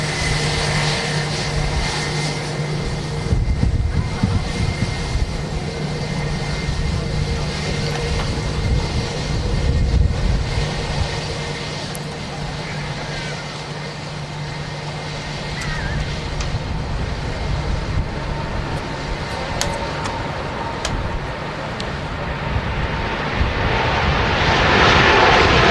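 An Etihad airliner rolls for takeoff at Manchester Airport, its jet engines producing a sustained broad roar that swells toward the end, heard from a distance with wind buffeting the microphone.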